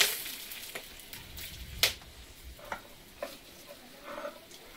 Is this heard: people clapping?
no